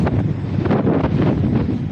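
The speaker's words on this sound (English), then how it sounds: "Sorry, it's windy." Strong wind buffets an outdoor microphone in Alberta, making a steady, loud low rumble with gusty swells across the whole stretch and no talking.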